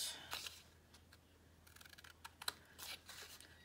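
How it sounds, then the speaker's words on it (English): Quiet, sharp snips and crisp rustles of Cutter Bee scissors cutting paper, irregular and close, with brief clusters of cuts and short pauses between. "These are Cutter bee scissors"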